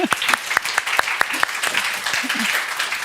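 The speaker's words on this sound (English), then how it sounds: "Very quick applaud for you." Audience applause after a talk at the INCITE one-year event: a brief, moderately loud round of clapping with a few distinct sharp claps standing out, fairly close and fading toward the end.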